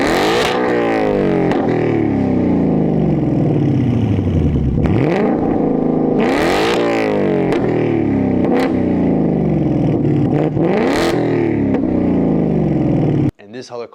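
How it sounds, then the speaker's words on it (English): A Ford Mustang GT with an MBRP exhaust and no headers idles loudly and close, then several sharp throttle blips rise and fall over the rumble before it cuts off abruptly at the end. "This is how my car sounds with just the MBRP exhaust."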